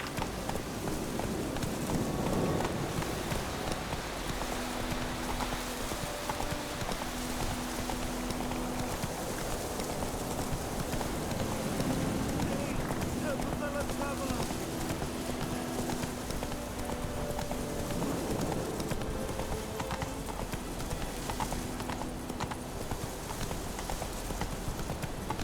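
Roach the horse gallops in The Witcher 3: Wild Hunt, with a steady, rapid clip-clop of hooves running throughout over a soft background of faint ambient tones.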